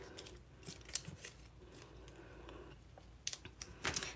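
Scissors snip ribbon bow tails, several crisp close cuts spread irregularly over a few seconds against a quiet room.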